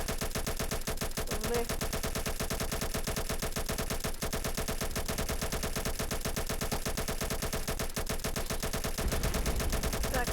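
Rapid, continuous automatic gunfire rattles nonstop at a steady loud level in a Roblox war game, a dense mechanical burst with no breaks, sounding synthetic like game audio.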